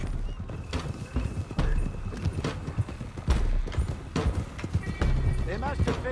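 Horses galloping in the Red Dead Redemption 2 video game, a busy run of close, steady hoofbeats with a whinny or two and riders talking over the top.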